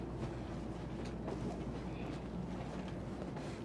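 Low rumbling hum of a stationary bullet train in Japan with steady broadband noise, faint clanks and distant murmurs of people on a platform.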